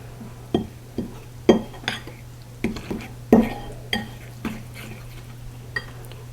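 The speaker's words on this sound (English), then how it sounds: "Next I'm going to add 1/3 cup of melted butter, and I'm going to mix that together." Melted butter being stirred into a keto casserole mixture in a bowl, with a utensil clinking and scraping against the dish in about a dozen short, irregular knocks close by over a steady low hum.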